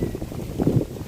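Strong gusty wind buffeting the microphone outdoors in a tropical vegetable garden, a continuous low rumbling roar that swells louder near the end, with no voices.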